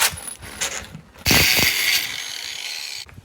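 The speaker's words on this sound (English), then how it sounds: "Now I only just cut through the braiding, just so I didn't put rubber shavings all through the pipe." Snips cut through the braided outer layer of a taped rubber coolant hose during a cooling upgrade on a BMW E46 drift car: a few crisp close snips, then a longer rasping cut, with no talking.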